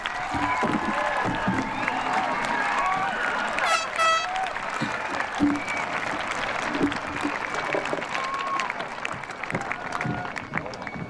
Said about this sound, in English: Let us begin this celebration with a jubilant round of applause